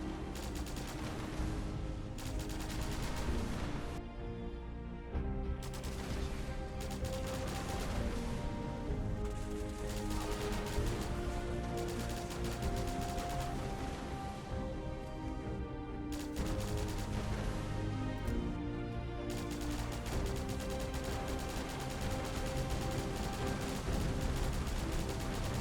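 Sustained bursts of automatic fire from a modded pistol in the Fallout 4 video game, dense and loud for the whole stretch with brief gaps between volleys, layered over continuous game sound.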